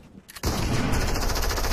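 Sharp gunfire in the Fortnite video game, a sudden loud shot after a brief quiet, followed by a sustained dense blast of game noise.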